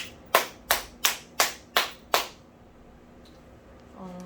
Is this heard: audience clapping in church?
yes